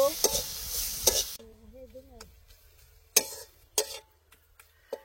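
Coriander leaves are stirred into a frying brinjal and prawn dish, with scraping stirs and steady sizzling, a few sharp utensil clacks against the pan, and a brief low voice in between.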